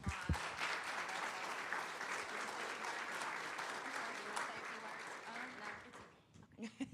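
Applause for a student at a county board meeting, sustained clapping from the room that holds steady for several seconds, then thins out and fades near the end.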